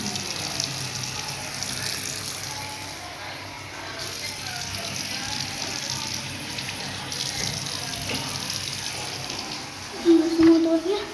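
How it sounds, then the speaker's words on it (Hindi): Water runs steadily from a tap into a sink while a face is rinsed, a continuous splashing hiss throughout with a brief louder burst near the end. "इसके लिए थोड़ा पानी अभी भी डाल देता हूँ।"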